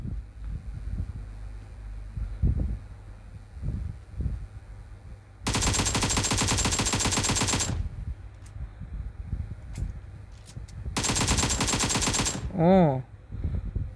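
Gunfire in the PUBG video game, two long loud bursts of rapid automatic fire with quieter wind and ambient noise between them.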